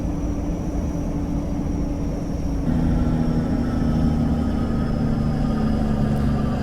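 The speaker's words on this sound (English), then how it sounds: "That's the engine brake." Engine brake of a truck in Euro Truck Simulator 2, a steady droning rumble that steps up and grows louder partway through and then holds, with no voices.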